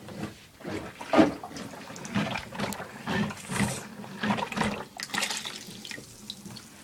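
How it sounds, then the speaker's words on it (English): A clogged sink is worked with a plunger, giving repeated wet sucking splashes and gurgling water in uneven bursts, fairly close, with no talk. "I have to plunge my sink now"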